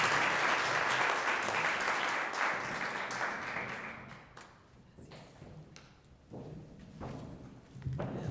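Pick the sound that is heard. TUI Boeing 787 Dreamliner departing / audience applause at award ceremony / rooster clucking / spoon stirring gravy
audience applause at award ceremony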